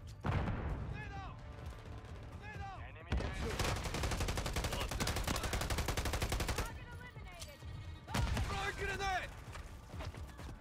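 Call of Duty MW3 gunfire: sustained rapid automatic bursts and single shots, loud and close, sometimes overlapping into a heavy barrage, with quieter gaps between volleys and voices speaking amid the combat.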